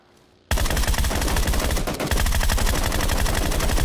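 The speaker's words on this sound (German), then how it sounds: "Schüsse auf mich von irgendwo." Sustained rapid automatic gunfire in a shooter video game, loud and close, starting abruptly after a brief quiet moment and continuing in dense bursts with a short dip midway.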